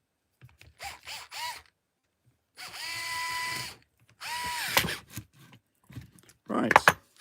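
A power tool tightens a bolt on NWSD team rails on a GS02 truck, running in several separate whirring bursts of varying length with pauses between, close and loud.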